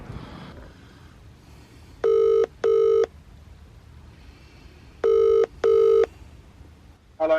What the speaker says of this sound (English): Hello, you alright?